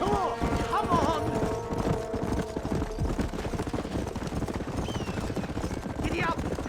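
Horses gallop in the Red Dead Redemption game, their hooves clip-clopping in a fast, continuous rhythm throughout, with a short whinny and voices calling over the hoofbeats.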